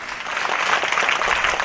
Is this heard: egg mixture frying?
no